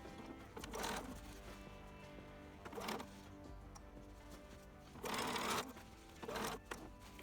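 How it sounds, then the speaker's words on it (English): A sewing machine runs a straight stitch to attach an elastic waistband to a dress, whirring in short bursts of a second or so separated by pauses, quiet and close with no talk. "this is just using a straight stitch"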